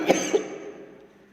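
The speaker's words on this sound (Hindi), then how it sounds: "सॉरी, खांसी चल रही है मुझे" Two quick, close coughs from a man, sharp and dry, followed by a fading breathy tail with no speech.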